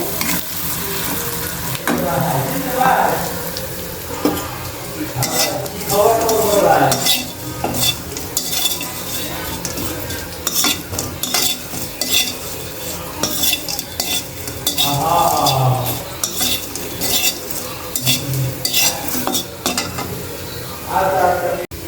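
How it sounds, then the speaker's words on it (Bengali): Fish fries in a pan with onion and green chili, a steady sizzle under repeated scraping and stirring strokes of a utensil against the pan, with occasional metallic clinks, continuous and close throughout. "এদিক দিয়ে মাছ ভাজা করেছি পেঁয়াজ কাঁচামরিচের সাথে"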